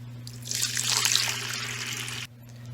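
About a liter of water is poured from a measuring container into a planter pot, a bright splashing trickle that swells and then cuts off abruptly over a low steady hum.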